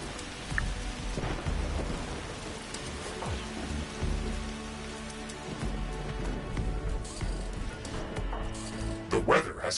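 Rain and a thunderstorm in the video game The Riftbreaker: steady rain hiss with low rumbling thunder rolling throughout, loud and continuous, with a brief crackle near the end.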